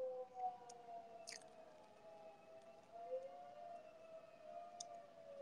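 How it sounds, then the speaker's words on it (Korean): A faint, distant siren wails outside, its steady wavering tone drifting slightly in pitch, heard from indoors over low background noise with a couple of brief clicks. "밖에 사이렌 소리가 들리네요."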